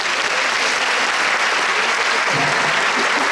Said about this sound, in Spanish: Valentino o Valentina, os voy a pedir que les deis un aplauso a todos ellos.